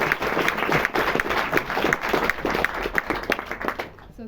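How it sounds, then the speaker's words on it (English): A full-house cinema audience at a Paris Q&A with an actor-director applauds, a dense, steady wash of many hands clapping close and loud that fades out at the very end. "Another round of applause, please."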